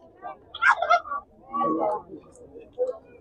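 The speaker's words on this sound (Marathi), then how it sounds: "परसबागेतील कोंबडी पालन व्यवसाय या ठिकाणी तुम्ही बघू शकता" Chickens at a backyard poultry stall at an agricultural fair in Narayangaon, Pune give several near, loud clucks and squawks in uneven bursts against a quiet background.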